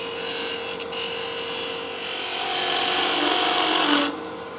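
Skew chisel cutting salvaged wood spinning on a lathe while a tool handle is shaped: a close, steady scraping hiss that builds in the middle and then cuts off sharply near the end, over a faint motor hum.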